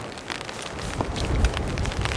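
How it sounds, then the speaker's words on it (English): Very light rain patters steadily outdoors in Enoshima, Japan, a soft continuous hiss with a few slightly louder drops and no voices. "it's very, very light rain"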